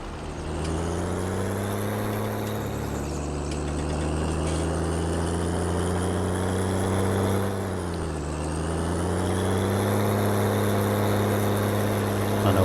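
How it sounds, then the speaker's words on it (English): A small tractor engine in the Farming Simulator 19 video game runs steadily and loudly for the whole stretch, with a deep, throaty hum that dips briefly and then recovers. No one talks over it. "I love the sound of this tractor."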